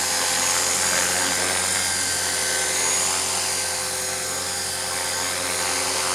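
A radio-controlled helicopter's motor whines steadily and loudly, a constant high buzzing drone that holds without pause as it hovers close by on its maiden flight.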